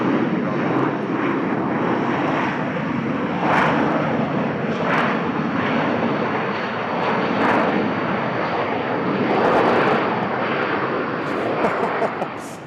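An airliner takes off from runway 20 left at Bangkok airport, its jet engines roaring loudly and steadily for several seconds, with a radio voice heard faintly at moments.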